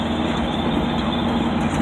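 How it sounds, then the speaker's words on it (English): A 1982 Chevy C10 idles steadily through its mufflers, a loud continuous low exhaust rumble with a constant tone and no break. "Can you hear the mufflers and all that?"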